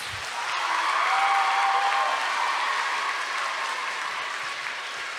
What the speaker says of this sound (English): Please give them one final round of applause.